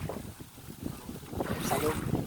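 Strong wind buffets the microphone on a moving boat at sea, a steady rushing roar with gusty swells and faint splashing, fairly quiet overall, with a voice briefly heard.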